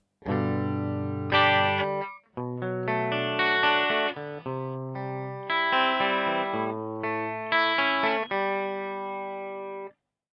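An electric guitar with chorus and a little distortion strums four bars of a song's verse chords, each held for a beat or two before changing.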